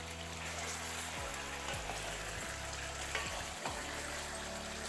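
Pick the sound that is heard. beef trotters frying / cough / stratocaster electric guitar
beef trotters frying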